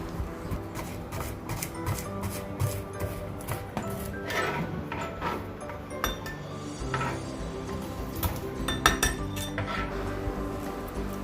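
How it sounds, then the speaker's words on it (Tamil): A kitchen knife chops garlic into small pieces on a board for a home-made garlic parotta. Close, rapid, slightly irregular taps and clicks repeat throughout. "ஃபர்ஸ்ட் வந்து நம்ம கார்லிக் வந்து சின்ன சின்னதாக சாப் பண்ணி எடுத்துக்கோங்க"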